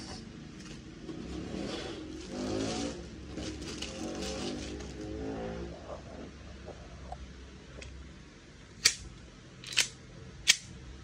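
A Trex Hi Capa airsoft pistol fitted with a 130% recoil spring fires several sharp, snapping shots about a second apart near the end, after a stretch of quieter handling and background rumble.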